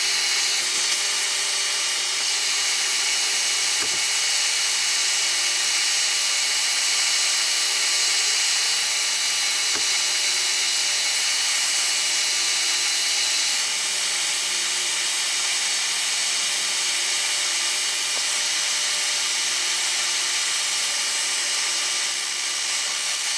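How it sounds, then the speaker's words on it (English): A milling machine on power feed drills a hole through a steel fence for an Oliver 80 table saw, giving a steady, loud, continuous broadband whir with two brief clicks and no talking. "and we're drilling."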